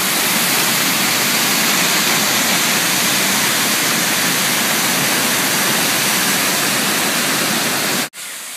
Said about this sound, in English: It's gotta be one of the most deafening waterfalls I've ever heard.